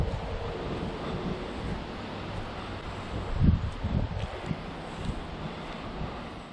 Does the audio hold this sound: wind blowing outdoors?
yes